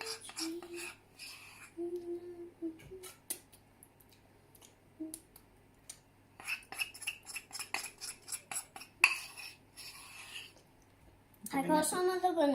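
A spatula scrapes Nutella banana bread batter from a mixing bowl in short, intermittent clinks and scrapes, quiet and close, with soft voices and pauses between the strokes.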